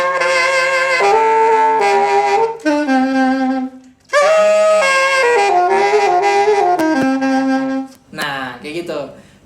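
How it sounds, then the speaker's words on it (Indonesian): A saxophone plays a phrase of sustained, harmonically rich notes with a rough, raspy growl texture, loud and close, with brief pauses between phrases. "growl itu suara serak-serak di saxophone"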